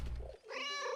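A cat in the video game 11-11 Memories Retold gives a drawn-out, high meow with a wavering, electronic quality, preceded by a low rumbling tone, close and fairly loud.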